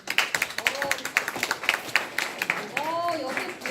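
Quick, rhythmic hand clapping from a few people in an automotive maintenance class, with sharp close claps in a steady burst for several seconds while voices talk over it.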